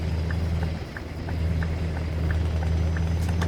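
A video game V8 truck with an open exhaust pipe rumbles at a steady idle, deep and close, with a brief dip and slight roughening in the drone partway through before it settles back to an even growl.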